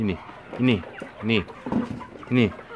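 Chickens cluck inside a coop on a small poultry farm, giving a few short, close, repeated calls at a quick, uneven rhythm.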